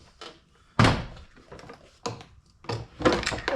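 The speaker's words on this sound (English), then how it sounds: "you can start separating the door panel from the door" Plastic door panel on a 2003-2007 car being pried away from the door, giving several sharp thunks and pops spaced across the moment, close and fairly loud, with no talking.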